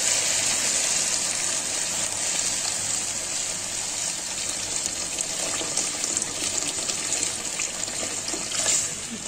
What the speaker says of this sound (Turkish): Şimdi suyunu çıkar.